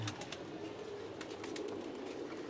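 Pigeons coo softly in a fancier's loft, low murmuring calls repeating under faint background noise and short higher chirps.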